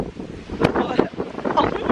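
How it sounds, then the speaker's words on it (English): Strong wind gusts roar across the microphone in a home garden, buffeting steadily throughout, with a person talking over the blustery noise. "You probably can't hear me because it's so windy."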